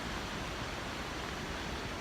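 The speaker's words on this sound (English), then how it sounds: "a random waterfall by the side of the road" Roadside waterfall in Norway, a steady broadband rush of falling water, faint and unbroken with no voices.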